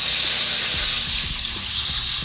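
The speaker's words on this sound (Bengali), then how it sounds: "কড়াইতে জল দিয়ে দিচ্ছি।" Water pours into a wok before cauliflower is steamed, a steady broad hiss and gush running close and continuous for a couple of seconds with no talk over it.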